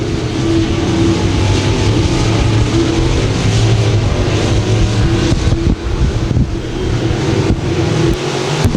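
IMCA Modified race cars roar around a dirt track during a heat race at Thunder Hill, a loud continuous engine drone mixed with wind buffeting and the rise and fall of passing cars.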